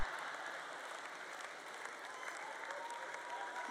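A church audience applauds, a faint, even wash of clapping from many hands that continues for a few seconds at a distance.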